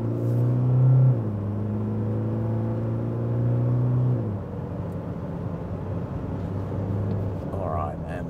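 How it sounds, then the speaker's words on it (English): A 2024 Toyota HiLux GR Sport pickup accelerates hard from 0 to 100 km/h with slight wheel slip off the line, its engine droning and rising through the gears with a shift around four seconds, heard from inside the cabin. "let's give that 0 to 100 run one more shot. Here we go. A little bit of wheel slip off the line."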